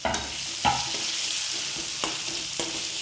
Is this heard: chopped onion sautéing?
yes